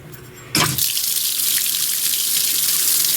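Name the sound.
cold water running from utility sink faucet into basin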